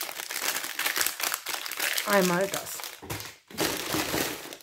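A plastic packaging bag for craft stickers crinkles and rustles in close, uneven bursts while someone talks over it, with one brief sung or drawn-out vocal tone in the middle.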